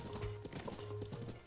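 Horse hooves clip-clopping in The Legend of Zelda: Breath of the Wild, a quiet, steady run of hoofbeats at a trotting rhythm with a faint tonal hum underneath.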